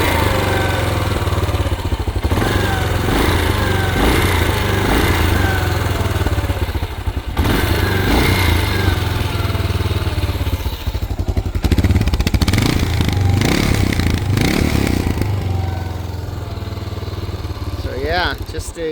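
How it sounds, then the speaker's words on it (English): A 1977 Yamaha XT500D single-cylinder motorcycle idles low and steady, its loud close thumping carrying throughout with a brief rev, and people talk over it. "I have the idle set kind of low right now."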